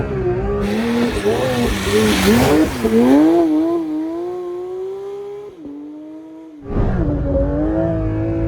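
A Porsche 992 GT3 RS drives on snow, its engine revving and rising in pitch, then easing off before a fresh surge of acceleration, heard up close with people talking over it.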